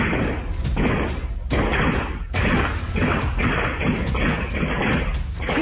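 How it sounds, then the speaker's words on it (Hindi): Gunfire captured on CCTV during an attack: a rapid series of sharp, evenly spaced cracks over constant background noise, with no speech. "आज तक को वो CCTV मिला है जिसमें हमले के वक्त गोलियों की तड़तड़ाहट सुनाई दे रही है।"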